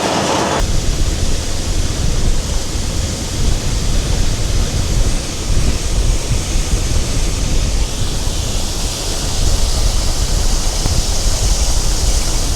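Wind blows steadily across a corn field at harvest time, a loud, unbroken rushing roar that fills the whole stretch with no pauses and no voice.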